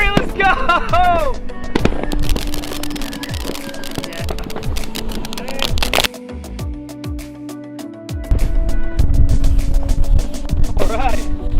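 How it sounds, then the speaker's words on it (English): Consumer fireworks shot off outdoors on the Fourth of July, with a rapid string of sharp crackling bangs and pops, some whistling, and a lull before more bursts, all loud and near, while people shout and cheer. "you have to be 300 feet away to shoot fireworks"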